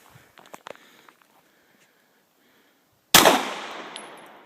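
A Glock 19 Gen 3 pistol fires at a target: after faint handling clicks and near-silence, one sharp, loud gunshot cracks out and leaves a long, decaying echo of outdoor reverberation, with no one speaking.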